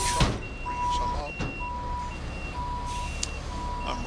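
A dump truck delivering asphalt to a paving site backs up with a steady, repeating reversing beep over a low diesel engine rumble and outdoor work noise.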